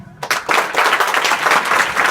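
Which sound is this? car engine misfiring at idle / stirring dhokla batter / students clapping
students clapping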